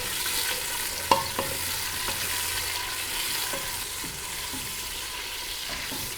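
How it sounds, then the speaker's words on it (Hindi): Chopped large onion softening in hot oil, a steady sizzle with a sharp utensil knock near the start and occasional scraping stirs throughout. "अब मैं इसमें डालूँगी प्याज।"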